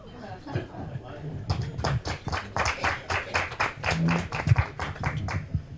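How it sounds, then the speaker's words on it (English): An audience at a morning local media summit in Larchmont–Mamaroneck claps and cheers in a fast, even patter that carries on under voices in the room. "it's so nice to hear a loud cheer in the morning"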